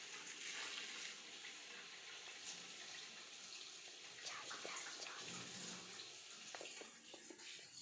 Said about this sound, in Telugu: వాటర్ దగ్గరికి వెళ్ళి ట్యాప్ తీసి మనం ఇలా పట్టుకోవాలి.